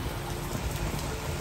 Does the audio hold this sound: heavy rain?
yes